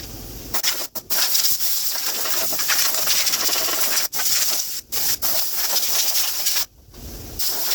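Compressed air blows off a car body panel before painting, a loud steady hiss that runs in long bursts broken by several short pauses.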